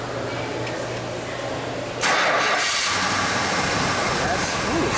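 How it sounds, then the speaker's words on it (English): A 1970 Plymouth Road Runner Superbird's 426 Hemi V8 starts up and settles into a steady, loud idle, with a low rumble holding after a brief quieter hum. "we'll get the engine started for you, the Hemi."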